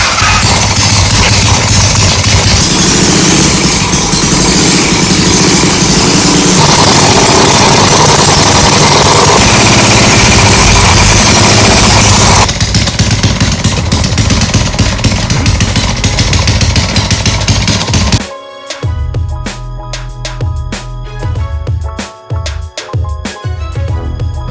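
A hand-made transparent water-cooled single-cylinder engine fitted to a vehicle roars loud and steady with a harsh buzzing drone, then cuts out near the end, leaving quieter clatter and knocks.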